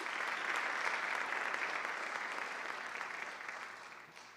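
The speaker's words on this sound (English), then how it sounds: "Let's give them all a round of applause." Audience applause at a school district awards ceremony, a steady wash of clapping that gradually fades toward the end, moderately distant in a large hall.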